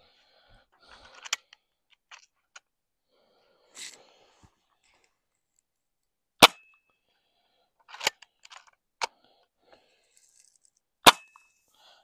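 A Crosman PSM45 air pistol fired at cans outdoors: sparse, sharp isolated cracks and metallic pings spaced several seconds apart, with faint clicks between shots.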